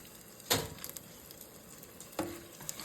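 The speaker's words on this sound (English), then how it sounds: "It don't take long for these to cook because the grease is so hot." Apple fritters frying in very hot grease give off a steady low sizzle, broken by two sharper splashy bursts as batter drops into the oil.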